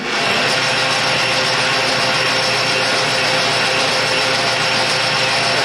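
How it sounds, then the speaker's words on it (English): A lathe chamfers a hole, its steady loud mechanical whirring and grinding running without a break throughout, with no voices. "Let's chamfer that hole."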